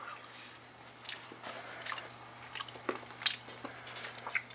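Cannoli filling tasted from a fresh spoon in a home kitchen, heard as soft, irregular wet chewing and mouth clicks, close and fairly quiet, with no talking.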